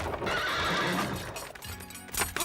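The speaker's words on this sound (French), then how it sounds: "Arrêtez les chevaux!" Horses neigh loudly and close by in a short, shrill burst, with a hoof clatter near the end and no voices.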